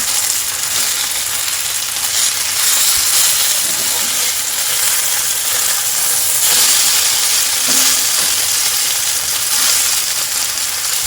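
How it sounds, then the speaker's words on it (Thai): Luffa and batter fritter frying in a pan for a vegetarian Chinese-style snack, a steady close sizzle and hiss running throughout with faint stirring sounds and no talk. "เราจะกลับไปกลับมาจนแป้งและบวบสุกทั่วนะคะ"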